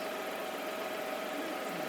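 A Can-Am Spyder engine idling during a road trip stop, a steady broadband hum with a faint tonal whine, constant and fairly quiet without talk.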